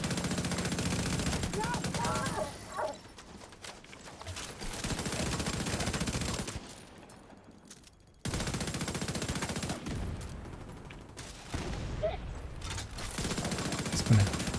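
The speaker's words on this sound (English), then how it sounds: "Just gonna keep shooting that pouch over and over." Rapid repeated gunfire in a video game, a weapon firing over and over at an enemy's pouch, sounding as dense continuous bursts that stop briefly in the middle before resuming, with a voice talking over it.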